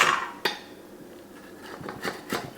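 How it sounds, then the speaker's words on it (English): Metal spatulas scrape and clink against a grill or pan while lifting grilled salmon off its skin, giving a few sharp, close scrapes and taps in a quiet setting with no talking. "take the spatulas and I go underneath"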